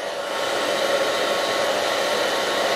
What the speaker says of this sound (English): the blow dryer, low, high heat.